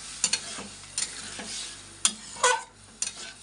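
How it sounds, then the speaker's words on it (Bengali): Fish roe masala is stir-fried with a spatula, a run of close, sharp scraping clatters against the pan over a soft background sizzle. "আর একটু কষিয়ে নেব।"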